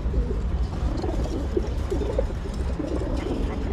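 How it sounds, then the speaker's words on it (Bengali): Pigeons coo repeatedly while eating, low throaty calls overlapping close by against a steady background rumble. "কবুতর খাচ্ছে।"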